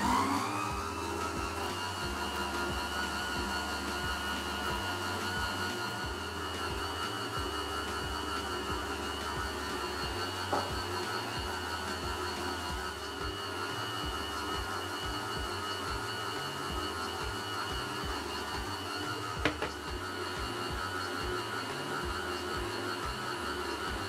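A stand mixer runs at speed 2, kneading brioche dough for a Tarte Tropézienne. A steady, whining motor drone with a low, rhythmic churning pulse continues loud and unbroken throughout.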